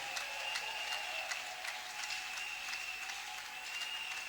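An audience applauds during a church service, a faint, steady wash of clapping heard from a distance.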